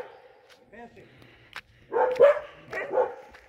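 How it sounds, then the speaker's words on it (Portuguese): Several dogs at a campsite in Mexico give a few scattered barks and yips. The barks come fairly close but moderately loud, with a cluster of them near the end and quiet gaps between. "Tem 4 cachorros aqui."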